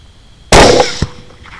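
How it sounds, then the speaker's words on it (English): A single loud rifle shot fired at a hog, a sharp blast with a short decay and a faint echo about half a second later. "rolled in with the second shot"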